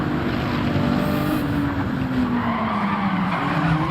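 A Ferrari 296 GT3 race car in a racing video game slides at the rear, its tires squealing steadily over a loud, continuous engine drone for the whole stretch.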